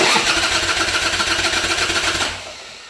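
A Harley-Davidson Softail motorcycle engine cranks over on its starter with no fuel tank fitted, a loud rapid rhythmic churning that runs steadily for about two seconds and then cuts off without catching.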